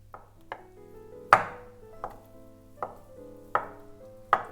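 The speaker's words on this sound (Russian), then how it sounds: "нарезаю кубиками" A knife taps sharply on a cutting board, dicing a boiled egg in seven separate chops at an uneven, unhurried pace, close and fairly quiet.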